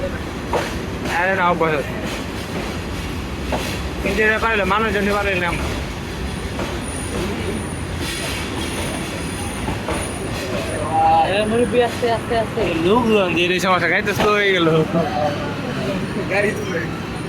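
The Upaban Express intercity train pulls into Sreemangal railway station at night with a steady rumble of wheels on track, rising and falling, while voices talk over it through much of the stretch.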